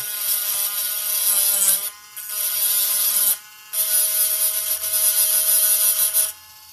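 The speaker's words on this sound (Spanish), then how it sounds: "lo que vamos a hacer es vamos a limar con nuestro super torno" A rotary tool grinds a trace on the circuit board of a 1990s Family Game console, a loud high-pitched whine in three sustained bursts separated by short pauses.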